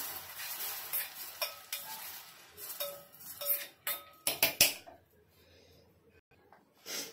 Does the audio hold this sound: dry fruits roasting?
yes